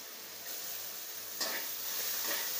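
Turmeric spice mixture being sautéed in a pan for vada pav, giving a soft, steady sizzle with faint stirring scrapes, close and fairly quiet, with no talking.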